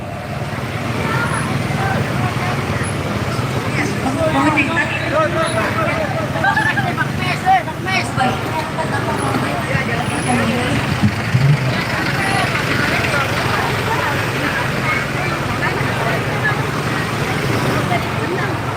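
Motorcycles and other traffic pass steadily along a busy road during a crowded street procession, a continuous roar of engines and road noise with crowd babble and voices mixed in throughout.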